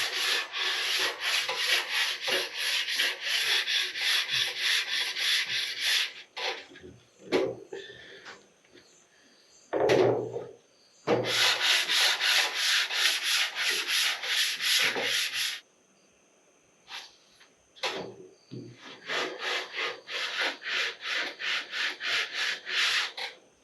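Bondo body filler being sanded on a Donkey Kong arcade cabinet, a steady close rasping scrub in long bursts separated by brief pauses and a few knocks.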